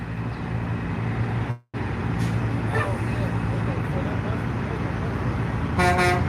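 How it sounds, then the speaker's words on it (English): A vehicle horn sounds briefly near the end over steady road and engine noise, with a short break in the sound early on. "I did get a honk."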